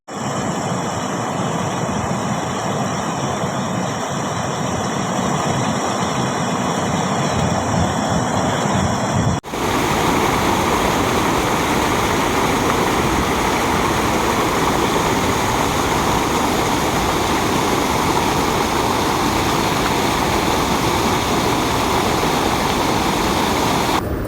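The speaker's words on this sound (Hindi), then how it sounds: "मातृकुंडिया के भी वहाँ पर गेट लगातार खोल रखे हैं, क्योंकि पानी की आवक लगातार बनी हुई हो" Water roars steadily through open reservoir gates at Matrikundiya in Rajsamand after heavy rain, a loud continuous rushing torrent that fills the whole scene without pause.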